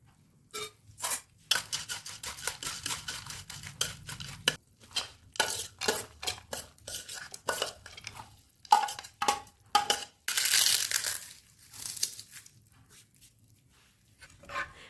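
Ragda bhel ingredients are tossed together in a bowl with a spoon, giving a quick run of repeated clinks, scrapes and soft stirring knocks, some brief bursts louder than others.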